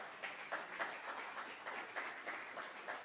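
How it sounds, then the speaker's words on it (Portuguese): A church congregation applauding together, a steady wash of many hands clapping with slight pulsing swells, fairly faint and distant in the room with no talking over it. "Você pode aplaudir a Jesus, irmãos?"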